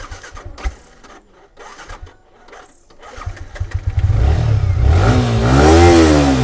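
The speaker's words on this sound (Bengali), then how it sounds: "এক সেলফে স্টার্ট।" A 2021 racing blue Yamaha R15 motorcycle is started with the electric self-starter. Quiet handling noises give way to the starter whirring, then the engine catching on a single press and revving loudly nearby.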